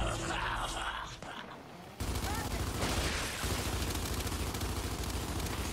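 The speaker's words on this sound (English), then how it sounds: "Oh, he's getting shot." Gunfire in the video game Gears 5 during online matches, dense rapid bursts of shots and crackling fire, dropping briefly before returning loud and continuous.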